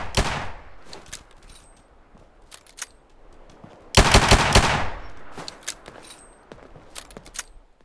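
Weapons fire in Fallout 4 with the Project Mojave mod: scattered sharp gunshots and clicks, then a loud, dense automatic burst partway through, followed by more sporadic shots, fairly close and with no speech.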